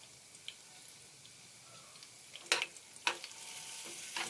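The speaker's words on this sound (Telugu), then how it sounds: "వేసి బాగా కొంచెం వేగేటట్టు మనం కలుపుకుందాం" Whole spices such as star anise, cloves, cinnamon and bay leaf frying in a pan for a pesara punugulu curry, with a faint steady sizzle and a few sharp stirring scrapes near the end, no talking.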